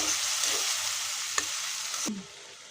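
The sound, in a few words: sautéing onion, tomato and spices in a pan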